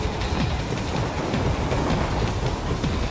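A speeding train in the action game Metal Gear Rising: Revengeance, a loud, continuous rumbling roar with rhythmic wheel clatter running the whole way through, no voices.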